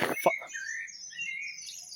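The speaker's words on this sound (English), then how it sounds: "The birds are joining in." Faint birds chirping and twittering in the distance, with soft high calls scattered through a quiet background and no voices.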